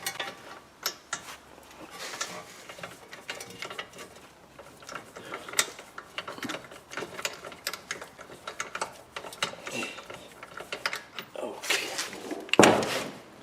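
Metal bolts being threaded by hand into a front wheel bearing hub on a Chevrolet Cruze, giving dense clicking, ratcheting and scraping mechanical sounds with a sharp metallic clank near the end.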